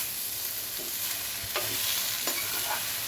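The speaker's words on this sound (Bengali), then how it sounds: "এবারে এটাকে ভালো করে নাড়াচাড়া করব।" Pumpkin greens and stalks are stirred with turmeric and salt in a hot pan: a steady, soft sizzle under a few scraping strokes of a spatula, close and continuous, with no voices.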